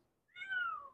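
A human voice imitates a cat, producing one quiet, drawn-out meow that rises and then slides down, alone against a faint background.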